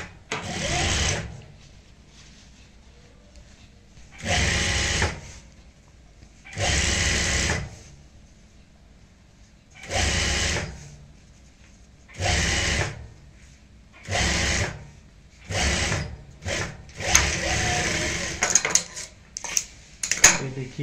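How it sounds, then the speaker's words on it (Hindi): A sewing machine stitches a zipper onto a fabric handbag, running over an existing seam in about eight loud bursts of whirring stitching separated by pauses, the later runs shorter and quicker. "इसी सिलाई के ऊपर सिलाई लगाते हुए इस जिप को स्टिच करेंगे।"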